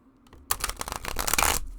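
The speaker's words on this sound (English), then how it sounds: "you could do the rifle shuffling" A regular-size tarot deck of not very stiff cards is riffle shuffled close by, a short quiet rustle building into a loud, rapid, fluttering burst of cards that ends sharply, with no talk.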